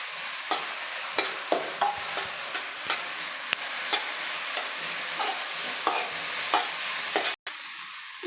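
Ginger garlic paste sizzling and frying in a pan for veg fried rice, a continuous loud sizzle broken by regular scraping stirs of a spoon, heard alone without talk.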